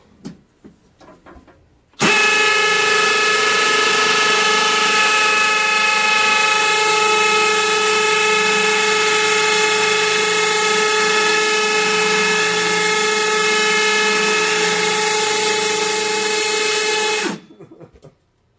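A power drill with black oxide bits bores through a steel lock, a loud continuous high whine with strong steady tones that runs unbroken for about fifteen seconds before stopping.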